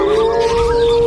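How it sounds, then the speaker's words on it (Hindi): A fox's single sustained, wavering howl, loud and close, held steadily for about a second. "ये तो लोमड़ी के रोने की आवाज है"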